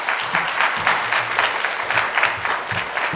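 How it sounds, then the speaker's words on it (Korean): A church congregation applauds steadily at an anniversary revival service to welcome the pastor to the stage, a dense, even wash of many hands clapping that swells slightly in waves and continues without talk. "올라오실 때 큰 박수로 환영해 주시면 감사하겠습니다"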